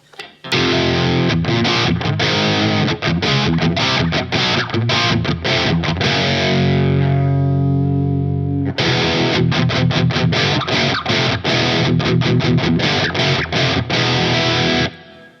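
Heavily distorted electric guitar through a Flamma FX200B multi-effects pedal on a metal preset plays loud, chugging riffs with rapid muted stops, pausing briefly for a sustained chord before the chugging resumes.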